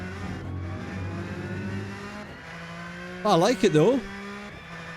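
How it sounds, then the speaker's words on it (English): A Porsche race car in the Rennsport racing simulator, its engine droning before a short burst of whining revs that rise and fall twice, heard beneath someone talking. "I like the gearbox whine"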